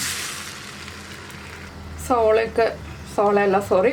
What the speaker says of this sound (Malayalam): ഇനിയിപ്പോൾ നമ്മുടെ മുട്ട ഉടച്ചത് നമുക്കൊന്ന് ഒഴിച്ചു കൊടുക്കാം